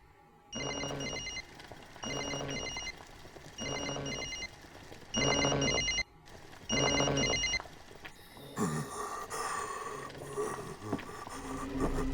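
Telephone ringing in the NightCry horror video game, repeated bursts of an electronic bell ring in a steady rhythm, then a clattering, rustling scene noise takes over near the end.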